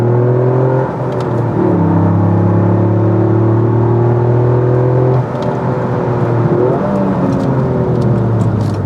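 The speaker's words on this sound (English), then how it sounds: "Really, really nice, deep exhaust note" Toyota GR Yaris fitted with an HKS Super Turbo Muffler exhaust, a deep bassy engine note droning steadily with pitch rising through the gears and brief dips at shifts, loud and close with no talk.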